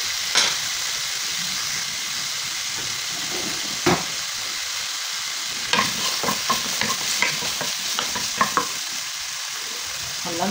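Pork frying in a little oil in a pan gives a steady close sizzle and hiss throughout, with occasional clinks and scrapes of stirring.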